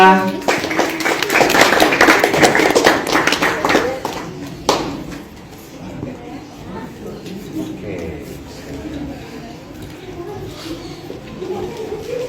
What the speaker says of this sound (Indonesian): Kasih tepuk tangan semuanya